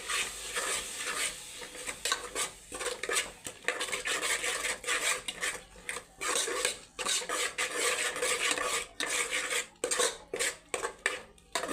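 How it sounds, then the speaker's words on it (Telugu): A spoon scrapes and stirs a masala of tomato puree, onion and coconut in a pan, the clatter and rasp steady and close for several seconds, with a faint sizzle underneath. "టమోటా ప్యూరీని, ఆనియన్, కొబ్బరి వేసి పెట్టుకున్న ఈ మసాలా కూడా ఇందులోకి వేసేద్దామండి. వేసి ఒకసారి బాగా మిక్స్ చేసుకుందాం."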